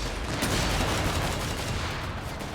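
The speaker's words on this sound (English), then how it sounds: "Oh my goodness, the grenade launcher's going off." A grenade launcher fires in Company of Heroes 3 combat, a dense, continuous barrage of loud blasts and gunfire crackling over the battlefield.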